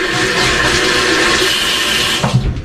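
Tap water rushing steadily as a spoon is rinsed in a kitchen sink, loud and close, ending with a brief clink as the flow stops.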